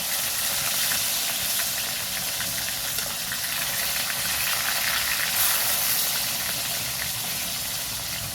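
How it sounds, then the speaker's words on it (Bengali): Rohu fish pieces frying one by one in hot mustard oil in a kadai, a loud, steady sizzling hiss that holds without a break from start to finish. "তেলটা গরম হয়ে গেছে। এখন আমি একটা একটা করে মাছগুলোকে ভেজে নেব।"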